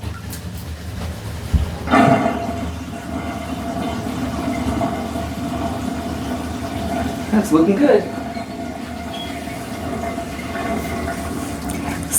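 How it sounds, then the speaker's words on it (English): Water from a newly fitted bathroom vanity rushes steadily down the drain pipe as a continuous gurgling flow, with a couple of louder thumps and splashes along the way and brief talk over it. "You can hear it. The water's just rushing down."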